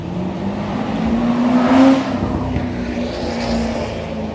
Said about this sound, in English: Unless of course you get a sports car like that.